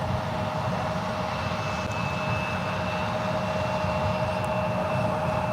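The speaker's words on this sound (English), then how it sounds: "Horizon 2233 going up to Spokane, Washington. That's 3-year-old Embraer 175." A three-year-old Horizon Embraer 175 airliner departs San Francisco, its engines producing a steady, distant roar and whine that holds constant throughout.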